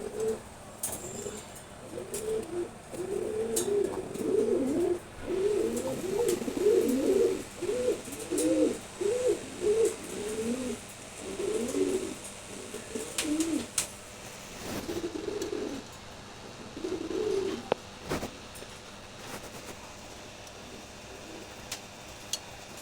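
A pair of Maksi Huma pigeons coos repeatedly, close by, in a run of soft throaty rolling phrases that thins out toward the end, with a few sharp knocks and rustles in between.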